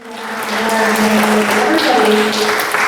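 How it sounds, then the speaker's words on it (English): A church congregation at a Sunday service applauds in a warm swell that rises quickly and holds steady, with a sustained tonal hum and some voices mixed into the clapping. "I just want to give a round of applause to Wade, Carol,"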